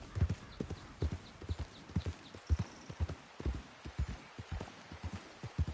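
A horse gallops in Red Dead Redemption 2 with quick, steady hoofbeats, close and rhythmic, and briefly whinnies partway through.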